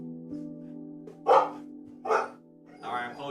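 Family dogs bark in three short, loud bursts over a steady hum indoors, with some voice-like sound mixed in.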